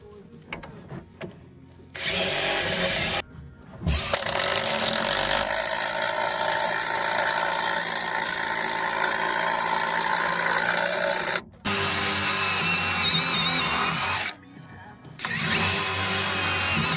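A power tool cuts out a block during wall framing on a tiny house build, running loud and steady for long stretches with brief stops, close by, with people talking nearby.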